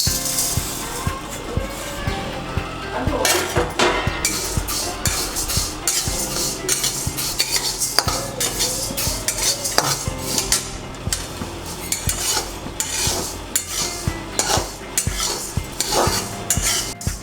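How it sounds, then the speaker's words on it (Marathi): Moong and urad dal dry-roasting together in a pan, with frequent scraping and clinking of a spoon or spatula against the metal and a light rattle of the lentils. The irregular stirring stays close and loud throughout. "मूग डाळ आणि उडीद डाळ एकत्र भाजते."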